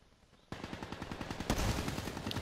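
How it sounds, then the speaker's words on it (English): Rapid automatic gunfire in a Call of Duty: Black Ops 3 match starts abruptly and keeps up as a steady, close stream of shots, with one louder crack partway through. "Okay, he's shooting at me."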